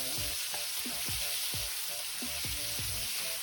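Onion and tomato sautéing in a pan for a monggo dish, with a constant bright sizzle and a rhythmic series of spatula scrapes roughly every half second.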